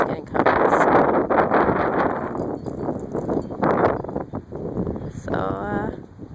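Strong gusting wind buffets the microphone at the start of a February snowstorm in Wisconsin, a loud continuous roar with surges and rustling, while a voice speaks briefly in between.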